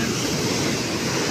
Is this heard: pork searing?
no